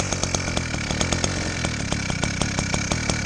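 A small two-stroke motorized bicycle engine running on choke from a cold start, a rapid, steady buzzing putter with regular firing pulses, close and fairly loud throughout.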